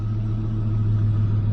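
Mitsubishi Triton engine running just after starting, a close, loud, steady low rumble with a droning hum and no voices.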